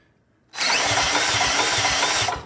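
A power drill fitted with a 15/16 socket cranks over a small engine with no gas in it, a loud steady whirring grind that starts abruptly and runs for about two seconds with a rhythmic chug underneath.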